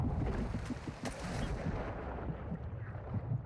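Gunfire in the Call of Duty DMZ mode, with a dense run of rapid shots and heavy booms close by for a few seconds and no talk over it.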